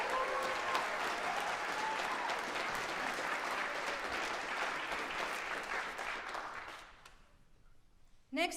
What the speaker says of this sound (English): let's give one big round of applause for all of our master's students